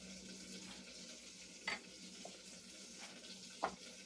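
Keto buttermilk biscuit dough with a farm-fresh egg stirred in a bowl, a low steady scraping with a few sharp utensil clicks against the side, close and fairly quiet with no talking.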